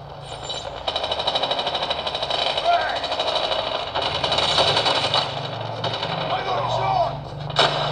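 Rapid gunfire in a shooting video game, dense, continuous bursts of shots that roll on almost without pause, loud and close, with faint voices underneath.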